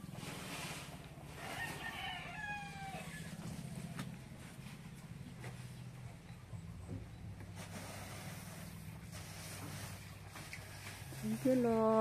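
Farm chickens cluck faintly in the background while a rooster crows in the distance, all quiet and partly masked by a low steady engine-like hum.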